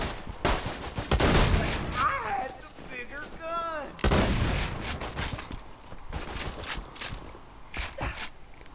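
Gunfire and shotgun blasts from the video game Borderlands 2 come in dense, loud overlapping bursts, with a few tonal effect sweeps mixed among the shots.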